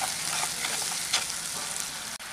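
Spice paste fries in hot oil with a dense, continuous sizzle, stirred with a few scraping strokes, close and loud, alone without speech.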